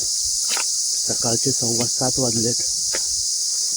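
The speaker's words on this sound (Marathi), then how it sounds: "हा रातकिड्यांचा आवाज आहे." A steady, high-pitched cricket trill runs unbroken throughout while someone speaks over it, in a forest at night.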